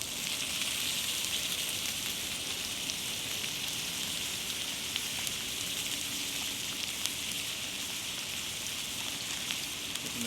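Butter sizzles steadily in a frying pan, a constant crackling hiss at moderate level heard alone for about ten seconds, cooked in an abandoned building.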